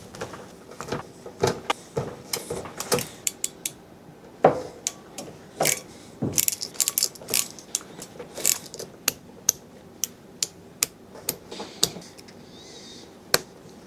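Deutsch connectors being pressed together on a wiring harness: sharp plastic clicks and snaps arriving irregularly, some in quick clusters, close and clear over faint handling rustle.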